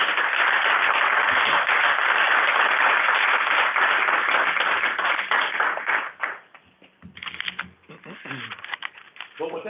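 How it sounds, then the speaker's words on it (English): Applause at a board meeting, heard through a narrow, telephone-like band: dense clapping for about six seconds, then thinning into scattered claps and fading out as voices begin to talk. "Give them a round of applause for that."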